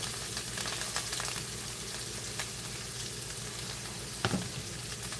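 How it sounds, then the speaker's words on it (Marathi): Steady, dense sizzling of coriander stems frying in hot tempering oil continues throughout, with a faint clink of a utensil near the end and no talking. "कोथिंबीरीचे देठ मी फोडणीला टाकत आहे"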